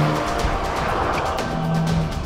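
Porsche 718 Cayman GT4 from 2019 driven on a race circuit, its engine roaring loud and close with a steady strained tone, plus a brief tire squeal partway through.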